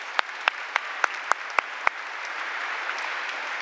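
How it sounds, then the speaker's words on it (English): Sustained clapping from a crowd at a town hall meeting in McMinnville, Oregon, with a few sharp louder claps standing out early before settling into a steady even wash of applause. "let's give him a round of applause"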